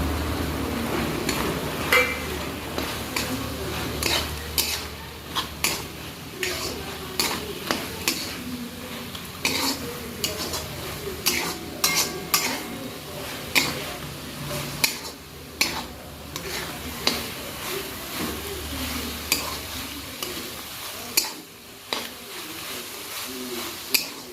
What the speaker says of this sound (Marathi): व्यवस्थित असं परतून घ्यायचं आहे आपल्याला